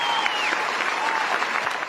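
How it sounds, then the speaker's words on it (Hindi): Loud, dense applause rises in a cartoon scene where a crowd claps in honour of a minister. It holds steady for about two seconds. "मंत्री जी के सम्मान में जोरदार तालियां बजा दीजिए।"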